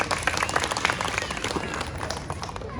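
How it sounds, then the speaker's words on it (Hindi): Steady applause from an audience at a political event in Surat, dense clapping filling the whole stretch at a fairly even level, with a faint murmur of voices underneath. "तो बस जोरदार तालियां अपने लिए बजा।"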